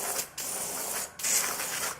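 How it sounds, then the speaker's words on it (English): Degreaser sprayed in two sustained hissing bursts onto a pocket bike carburettor sitting in an ice cream container, close and fairly loud, with a short pause between them. "Let's pop that lid off and give it a spray down"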